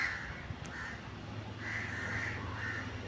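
Crows caw repeatedly outdoors in short, harsh bursts, a few calls in quick succession then a pause and more, moderately distant over a low background hum.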